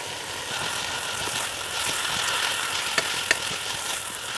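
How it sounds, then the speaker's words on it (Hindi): Onions and mixed vegetables stir-fry in Schezwan masala for restaurant-style spicy chicken Schezwan noodles, a steady close sizzle with a few sharp clicks of the spatula near the end. "प्याज को इसी मसाले में हम अच्छी तरह से भून लेंगे"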